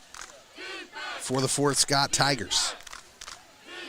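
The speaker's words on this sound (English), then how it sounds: "the crowd's a little louder tonight" A crowd cheers and yells at a high school varsity football game against Fort Scott, a loud swell of voices and shouts in the stands, while a commentator speaks over it.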